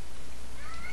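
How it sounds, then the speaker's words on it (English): A house cat gives a single rising meow near the end, fairly close and clear over a steady indoor background hum. "You might hear my cat meowing here."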